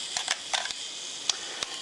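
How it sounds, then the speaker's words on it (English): Shutter of a Minolta XD-11 SLR film camera fires several times: sharp, quiet mechanical clicks in small clusters and single snaps, close up with no voices. "The shutter is actually quite quiet compared to other SLRs and even among Minolta"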